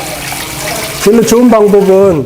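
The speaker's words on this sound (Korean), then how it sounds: "이 수도꼭지가 이렇게 생겼으면 이거 풀으세요." Tap water runs in a steady, loud stream into a large bowl while rice is soaked and rinsed in a traditional Korean rice-wine brewing class, with someone talking over it.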